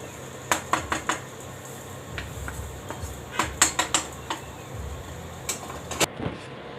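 Roasted flour is transferred into another pot, with metal utensils clinking and knocking against the vessels in scattered sharp clatters, close by and without speech.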